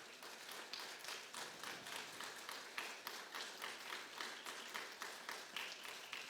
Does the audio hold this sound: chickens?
no